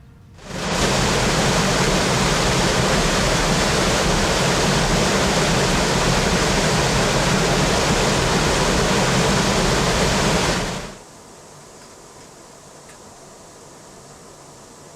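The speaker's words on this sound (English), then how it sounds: "The mill sluices and channels were made to harness the power of the water." A loud, steady roar of river water rushing through mill sluices and channels at high water fills most of the clip, then cuts away abruptly to a quiet background.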